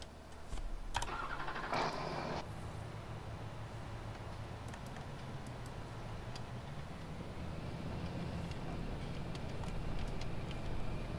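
A vehicle in Farming Simulator 19 pulls away with a steady mid-pitched engine drone that runs the whole time, plus a brief brighter whine near the start.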